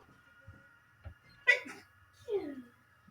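A sharp, close sneeze bursts out in a quiet room during a Borderlands gaming session, with soft vocal sounds just before and after.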